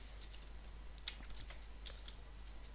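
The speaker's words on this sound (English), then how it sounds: "All we need to type in is the messages." Quiet, quick keystrokes tap on a computer keyboard while C code is typed, a light irregular clatter over a steady low hum, with no voice present.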